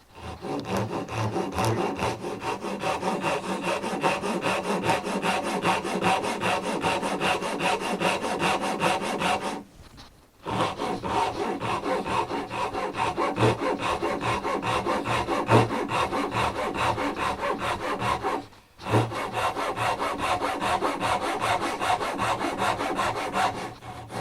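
A Japanese hand saw cuts through wood in steady back-and-forth rasping strokes, close and rhythmic, pausing twice briefly before resuming.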